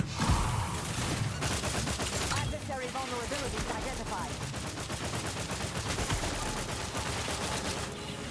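Rapid automatic gunfire from The Outer Worlds as a mantisaur is shot, dense bursts of shots firing continuously for several seconds, with a person talking over part of it.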